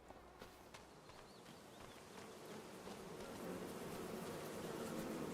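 Bees buzz around a cluster of beehives in Farming Simulator 25, a faint, continuous insect hum that swells slightly over a few seconds with no talking.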